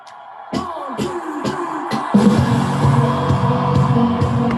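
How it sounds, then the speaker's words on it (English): Sampled crowd noise from a live gig sits behind a song intro, a diffuse murmur that thickens after a couple of seconds, with faint rhythmic thuds from a count-in near the start. "And you can hear the crowd in the background there"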